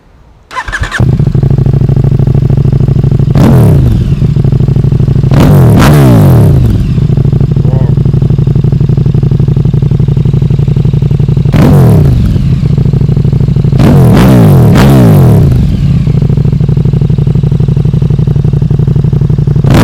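A KTM Super Duke 1290R with an Akrapovic Evo titanium exhaust and the baffle removed idles loudly with a deep throbbing rumble, broken by four sharp, close blips of revving that rise and fall quickly.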